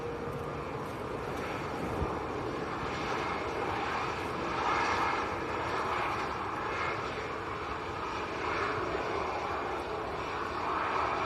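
A Privilege Style Boeing 777 departs Manchester Airport, its jet engines giving a loud sustained roar that swells and eases slightly over about eleven seconds, with no clear voices.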